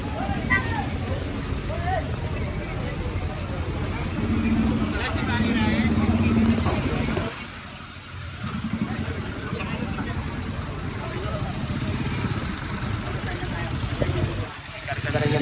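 Motorcycles, NMAX scooters and tricycles roll past on a city street in Tondo, a steady engine drone with the rumble of passing vehicles, briefly dipping quieter midway, while people talk nearby.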